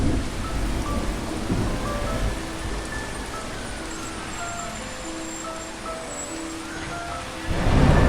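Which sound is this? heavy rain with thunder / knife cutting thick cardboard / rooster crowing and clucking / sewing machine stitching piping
heavy rain with thunder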